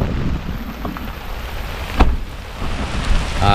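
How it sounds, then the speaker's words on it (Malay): Soft, steady hiss of rain falling at a campsite, fairly close, with a couple of brief knocks or drips standing out; no one speaks. "Hujan tu mah."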